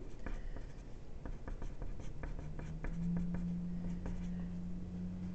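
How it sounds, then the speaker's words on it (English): A pen writes an algebra equation by hand, a series of quick close scratching strokes and taps in an irregular rhythm, with a faint steady hum underneath. "I'm going to just write this right here."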